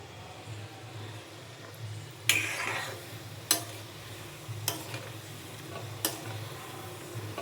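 Gulab jamun fry in oil with a soft, continuous bubbling sizzle, broken by a few sharp clinks and taps from a utensil against the pan.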